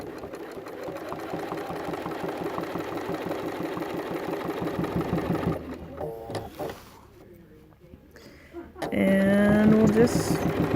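Sewing machine stitching a quilting line along a flipped template, a steady rapid mechanical whir for about five seconds, pausing with faint handling noises, then starting again loud and close.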